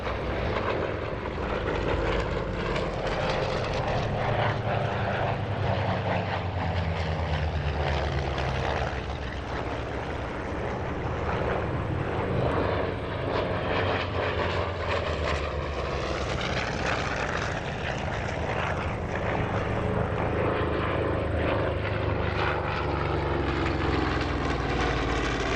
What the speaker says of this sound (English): a huge line abreast formation of Corsairs passing over the airfield to end their show